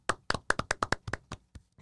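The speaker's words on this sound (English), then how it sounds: "I'm going to clap a little." Hands clap about a dozen times in a quick, uneven burst, sharp and close, and the claps grow softer and sparser toward the end.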